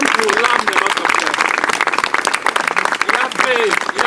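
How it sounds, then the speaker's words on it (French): A congregation at a memorial service applauds steadily and densely throughout, with voices calling out and talking over the clapping. "on acclame pour l'âme de notre frère."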